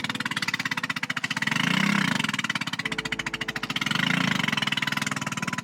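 A boat motor drones steadily on a stuck boat wedged in shallows near Phatthalung, Thailand, its pitch swelling and easing twice in slow surges as it strains under load, loud and close with no talk.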